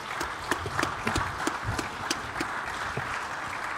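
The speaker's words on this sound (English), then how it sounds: "I think we can give you a round of applause." Audience applause at a drone forum breakaway session after a presentation, a moderately distant patter of many hands clapping steadily for several seconds with no voices over it.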